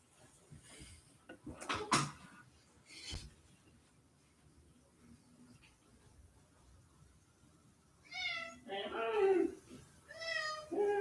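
A domestic cat meows several times in a row, the tonal calls fairly close and clear near the end, after earlier thumps and background voices from a basketball broadcast.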